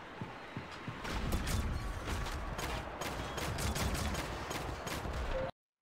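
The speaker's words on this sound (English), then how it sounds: "So we need to kill him with the pistol." Pistol gunfire in Shadowgun Legends, a rapid run of sharp shots repeating steadily over a dense bed of game noise, then cutting off abruptly.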